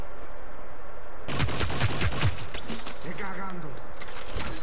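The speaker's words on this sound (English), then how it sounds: "Targeting automatic pistol." Rapid automatic pistol gunfire in the video game Hyper Scape, a quick burst of sharp shots followed by impact and effect sounds, with a voice speaking over the game audio.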